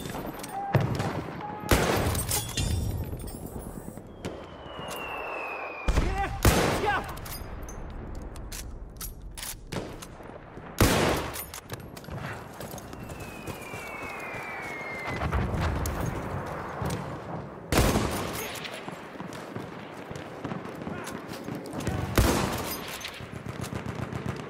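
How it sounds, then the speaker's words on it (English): Scout-class GUA 98 Sharpshooter rifle shots in Battlefield 1, sharp loud cracks spaced several seconds apart amid distant battlefield gunfire, galloping hooves and horse whinnies. "I'm using the Scout Class GUA 98 Sharpshooter and the P08 Pistol"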